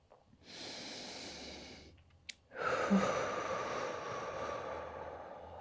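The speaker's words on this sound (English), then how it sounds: "In through the nose, out through the mouth." Slow, deep breaths during a skipping-rope HIIT cool-down stretch, each drawn in through the nose and released out through the mouth, close and soft, with a short pause between two long airy exhales.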